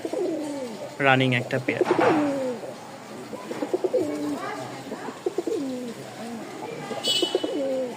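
Racing pigeons at a pigeon sale coo close by in repeated rolling, throaty phrases, while someone talks over them throughout.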